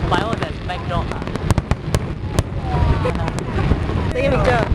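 Fireworks exploding in a steady series of sharp bangs and crackles, loud and continuous, with people talking excitedly and wind buffeting the microphone throughout.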